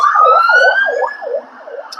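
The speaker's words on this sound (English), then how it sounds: "I'll wait for this siren to go past." An emergency vehicle siren passes close by, loud and wailing in a rapid repeating cycle. It fades somewhat as it goes past.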